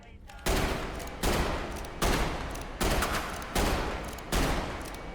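Six loud gunshots from the Snub Nose Grace revolver, a secondary for the Frame Trooper and Bulwark Trooper in the Roblox game Grave/Digger, each crack followed by a ringing tail, spaced evenly about every three-quarters of a second with no talk.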